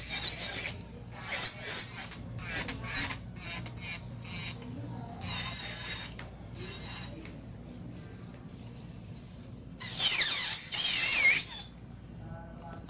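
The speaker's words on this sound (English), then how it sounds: "This is my customized drill bit." An electric nail drill with a customized bit files acrylic nails in a salon, giving short, faint rasping and grinding bursts that come and go over a low background hum.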